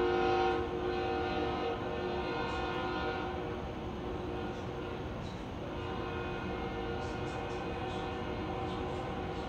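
An empty CSX coal train rolls past with a sustained horn blast and steady wheel and car rumble, heard at a moderate distance.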